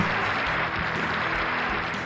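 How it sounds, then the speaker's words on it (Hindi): An audience at an Atomy leaders' success event gives a speaker a warm welcome onto the stage with dense, steady applause. The clapping is close and fills the whole stretch without pause, easing slightly toward the end. "जोरदार तालियों के साथ सर का स्वागत किया जाए।"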